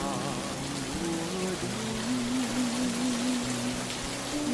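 Steady rain falls in a soft, even patter that runs on without a break, with a sustained musical tone drifting underneath and no voices.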